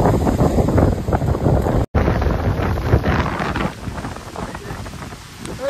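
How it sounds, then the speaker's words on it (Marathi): Heavy rain pours down beside the river at Nandkar, a dense steady hiss with gusts of wind buffeting the microphone, loud and continuous, a brief dropout near two seconds. "ते पाऊस बघा नानकरला कसा पडतोय"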